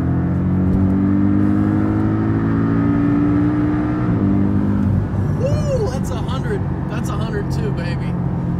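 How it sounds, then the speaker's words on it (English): Porsche Boxster S engine hums steadily while driving, a continuous low drone with a slight rise in pitch around the middle, loud and close inside the car, with some cabin noise toward the end. "I'm whipping in the Porsche Boxster S right now, and just listen to this purr"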